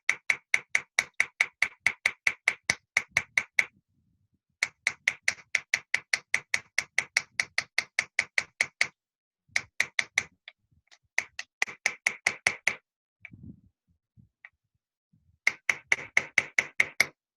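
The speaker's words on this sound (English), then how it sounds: "I'm going to use a 2-ounce hammer because I want very small amounts of movement." A small 2-ounce hammer chases metal in repoussé work, sharp light metallic taps struck in fast, even bursts of about ten to twelve blows, separated by short pauses, close and clear with no talking.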